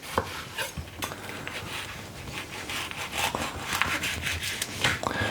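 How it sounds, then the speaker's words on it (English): Knife slicing chilies lengthwise on a cutting board, a run of light scraping cuts and taps close by, with brief sharper knocks against the board and no talking. "we're just going to slice them lengthwise"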